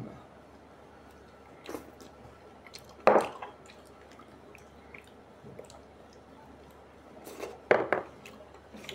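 Wet, squishy chewing of ripe jackfruit sounds up close, coming in a few separate bursts with quiet pauses between mouthfuls.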